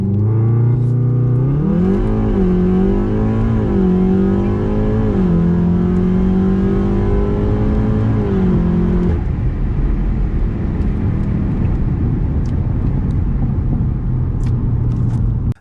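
A 700 bhp Audi RS6 accelerates hard from 30 to 100 mph, its engine note climbing loud and close through several rising pulls with quick dips at the gear changes, then settling into a lower rumbling drone.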